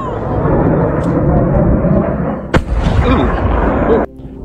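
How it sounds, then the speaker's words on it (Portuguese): A large explosion from a crashing rocket in Alaska rumbles loud and continuous with a sharp burst partway through, then cuts off abruptly, while people talk over it. "Olha o tamanho da explosão ali."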